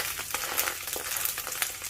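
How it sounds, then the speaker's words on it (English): Salmon fillet laid into a hot cast iron skillet gives a soft, steady sizzle and crackle, fairly quiet and continuous, with no voices over it. "hear the sizzle."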